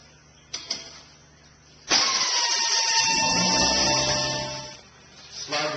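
A 13 mm wrench or power tool spins out the brake caliper bolts on the rear disc brakes of a 2007 Ford Mustang, a loud steady whirring burst lasting about three seconds after a couple of faint clicks.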